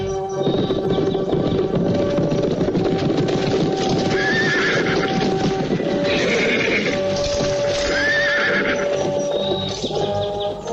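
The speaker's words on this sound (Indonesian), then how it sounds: "ada 10 orang naik kuda sedang menuju kemari." Horses neigh and whinny repeatedly while clip-clop hoofbeats run steadily throughout, loud and close, as a group of about ten riders on horseback approaches. No one speaks.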